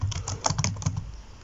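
Rapid typing on a computer keyboard entering a browser search, a quick irregular run of close, moderately loud key clacks with no talking.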